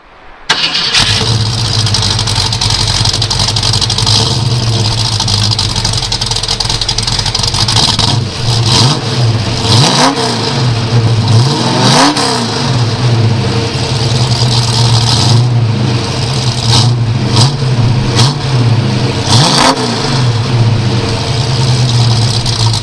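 A 1966 Ford Mustang hardtop with its 289 cubic-inch V8 cranks and fires, then settles into a loud, close, rumbling idle broken by several sharp blips of revving.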